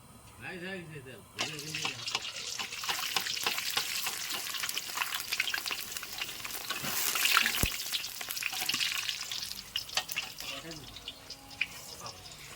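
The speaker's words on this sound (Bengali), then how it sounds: "আর একটু গরম হোক, তারপর আমরা পাঁপড়টা ভেজে নিব" Papad frying in hot oil in a home kitchen, a steady broadband sizzle that swells in the middle and continues to the end, with voices talking over it at the start and near the close.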